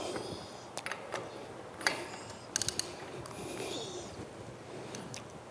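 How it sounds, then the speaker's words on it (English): A nut being spun back onto a lubricated bolt, heard as soft metallic ratcheting and scraping clicks with a few sharp ticks, fairly quiet and close amid low room noise. "Put the nut back on."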